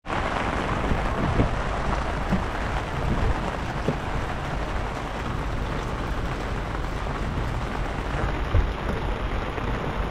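Steady, loud rain pours down continuously on a fishing trip, a dense wash of hissing noise with no pauses and a few faint thuds mixed in.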